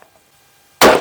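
One sharp, loud rifle shot from a bolt or lever action rifle on a shooting range cracks at the very end after near silence.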